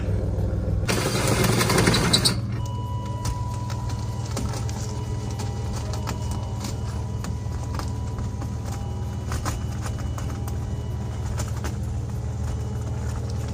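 A car engine cranks and catches in a short, loud burst near a caravan, then settles into a steady, even idle that runs without talk.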